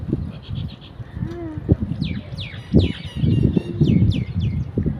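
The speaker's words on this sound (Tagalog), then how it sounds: "Daming ibon guys." Many small birds chirp and tweet in several quick, bright calls over a busy, low crowd murmur and scattered voices at a Kabayan store in Qatar, with a low hum running throughout.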